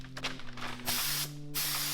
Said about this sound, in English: Should we see how this one sprays?